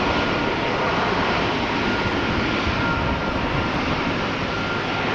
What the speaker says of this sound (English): A321 is taking off